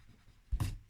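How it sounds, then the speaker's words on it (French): A pencil eraser rubs across paper while pencil lines are cleared from a simple easel-style flip card, in a couple of quick, close scratchy bursts after a near-silent pause. "vous pouvez gommer en haut et en bas"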